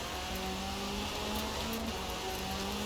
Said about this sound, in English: And bloody rev limiter again.